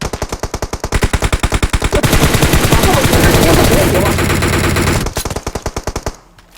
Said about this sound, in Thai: โอ้โหมันขยันยิงจังวะ